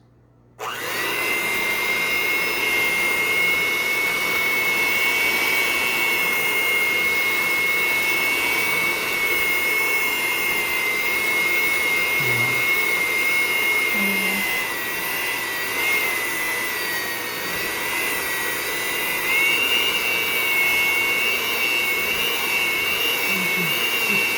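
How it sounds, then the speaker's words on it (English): An electric mixer beats pumpkin cream cheese pie filling, giving a steady, loud, unbroken motorized whir that runs for the whole stretch with no talking. "now we're going to beat that until it's nice and smooth"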